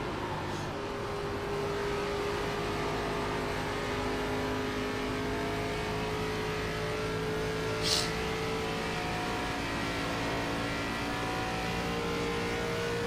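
An ARCA race car engine drones at high revs on the Indianapolis oval in the iRacing video game, a steady, loud whine with a sustained tone holding through the straight and a brief click partway.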